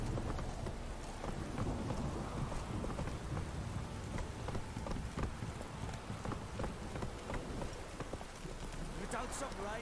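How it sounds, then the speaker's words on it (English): Steady heavy rain pours throughout with low rumbling thunder underneath in The Witcher 3: Wild Hunt, dense and continuous, while a voice talks briefly over it. "You don't stop raining, my arse."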